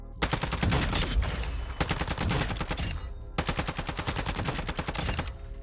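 Rapid automatic fire from a long-range weapon in Warzone, a light-hitting gun, rattling off three close, loud sustained bursts with brief pauses between them.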